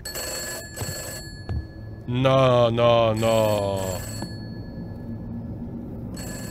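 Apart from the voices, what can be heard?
telephone ringing in video game Summer of '58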